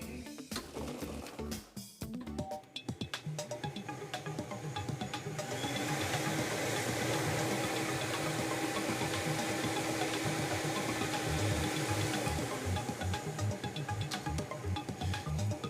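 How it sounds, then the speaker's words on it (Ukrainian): A lottery ball drum machine runs for a Loto Zabava draw, a steady whirring, rattling roar that starts up partway through and holds loud and continuous to the end, with no talk. "Вмикаємо лототрон."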